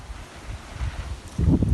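Wind buffets the microphone in low rumbling gusts, growing stronger toward the end.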